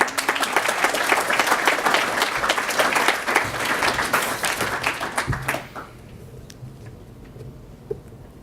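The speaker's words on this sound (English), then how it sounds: "Tom, you should get a round of applause." A dedication crowd at Stanford's David Rumsey Map Center applauds Tom Kramer with dense, loud, sustained clapping for about five seconds, then cuts off abruptly into a quiet room with a faint tap.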